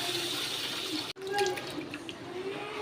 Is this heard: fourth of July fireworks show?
no